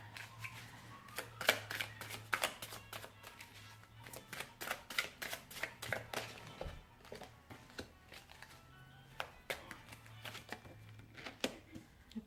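Tarot cards shuffled at close range, a dense run of rapid papery riffles and flicks that surges and thins over several seconds above a low steady hum, with no voices.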